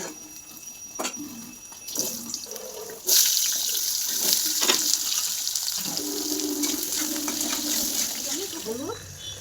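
Water runs from a kitchen tap in a sink while ground coriander and turmeric are rinsed during fish curry cooking, a steady splashing stream starting near three seconds after brief clinks and a voice speaking.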